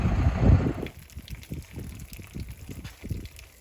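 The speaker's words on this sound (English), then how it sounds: "Try to let that little bit of water flow out." Water draining from an old M35A2 6x6 army truck radiator: a brief gush that settles into a light, uneven trickle and dribble, heard up close.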